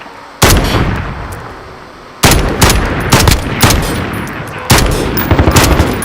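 Call of Duty: Modern Warfare gunfire, loud close heavy shots in several separated bursts, each a sharp crack followed by a ringing decay, with quicker double shots mid-way.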